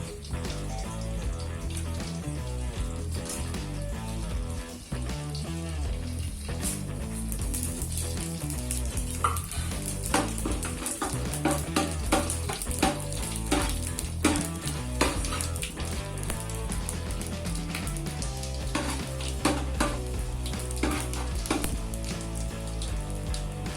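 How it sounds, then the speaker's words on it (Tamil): Steady crackling and popping of cinnamon, cloves, fennel, cardamom and bay leaf frying in hot oil for mutton biryani, dense and continuous with faint clinks of a pan, no voices. "பட்டை, கிராம்பு, சோம்பு, ஏலக்காய், பிரிஞ்சி இலை எல்லாத்தையும் போட்டு நல்லா தாளிக்கணும்."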